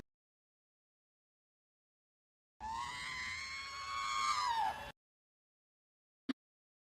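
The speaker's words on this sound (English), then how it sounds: "The R2-D2 screaming is my favorite." The R2-D2 screaming sound effect from Star Wars: a single loud, shrill, warbling electronic squeal lasting about two seconds, followed after a pause by a short sharp click.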